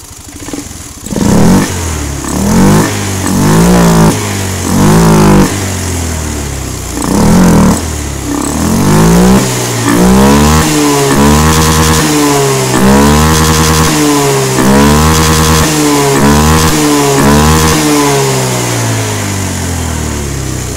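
Honda Beat PGM-Fi fuel-injected scooter engine, close up, revving in repeated short blips and then rising into longer sustained revs before settling, loud and alone with no talking.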